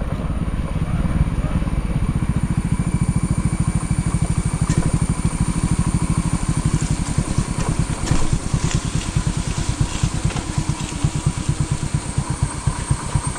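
A motorcycle engine idles near a small bridge over a stream on a rainy monsoon ride, a steady close throbbing that runs evenly throughout with slight rises in the middle.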